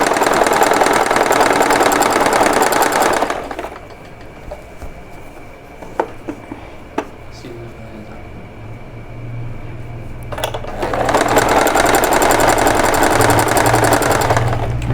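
Sewing machine stitching a saree fall with pico edging, loud and continuous for about three seconds, pausing through a quieter stretch with a few small clicks, then running steadily again toward the end.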